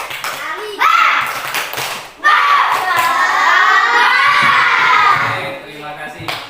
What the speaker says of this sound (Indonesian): silahkan kalian tepuk semangat seperti kemarin